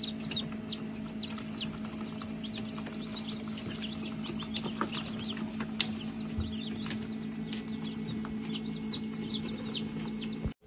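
Newly hatched chicks fresh from an incubator peep in a busy, continuous chorus of high chirps over a steady low hum, close and fairly loud, without speech.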